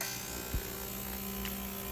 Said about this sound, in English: my ultrasonic cleaner comes in especially handy for getting in those hard to reach areas